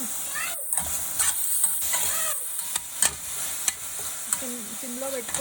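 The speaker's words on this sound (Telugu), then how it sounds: "2 స్పూన్స్ నెయ్యి వేసుకొని బాగా ఉడికించుకోవాలి తిప్పుకుంటూ" Grated coconut cooking in ghee in a pan sizzles steadily while a spoon scrapes and stirs it in repeated strokes, close and clear, with a voice briefly speaking at times.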